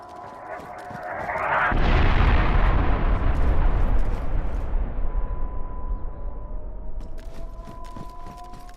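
Nuclear blast in the survival game DayZ on the Deer Isle map: a deep, rumbling explosion swells in, holds for a few seconds, then slowly fades into a long distant rumble, with faint crackling pops around it.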